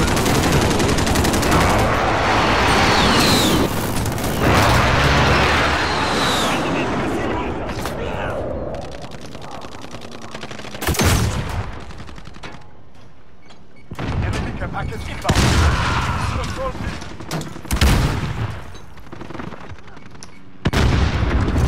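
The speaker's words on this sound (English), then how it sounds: "Enemy precision airstrike inbound!" Loud video game combat with bursts of gunfire and heavy booming airstrike explosions, dense early on, then sparser sharp blasts and bangs through the rest, with a player's voice talking over parts of it.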